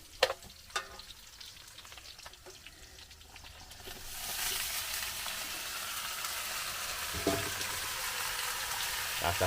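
Pork spare ribs dropped into a pan of frying onion and garlic, with a few clanks before a loud, steady sizzle sets in and continues close and unbroken.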